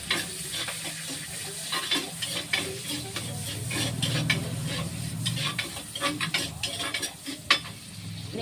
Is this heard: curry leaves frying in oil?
yes